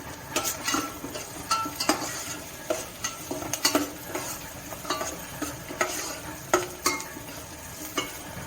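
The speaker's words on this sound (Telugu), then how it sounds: "ఆనియన్స్ అయితే ఆల్మోస్ట్ ఫ్రై అయిపోతున్నాయి. నేను దీంట్లో కొద్దిగా క్యాషు వేసుకుంటున్నాను" Onions with cashews frying in oil in a pan for a gongura prawn curry, a steady sizzle broken by repeated loud scraping stirs of a spoon against the metal.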